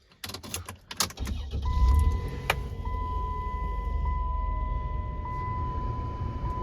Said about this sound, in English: Here, I'm gonna turn the car on and show you.